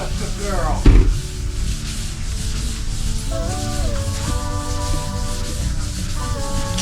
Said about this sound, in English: When I wipe this, if I have any places where there's a little bit of buildup, I can rub just a little bit longer and it'll take that down.